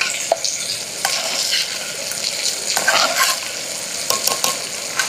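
Chopped onions and tomatoes sizzle in a frying pan while being stirred for a snail curry, soft crackling with scattered scraping clicks of a utensil against the pan, close and moderately quiet.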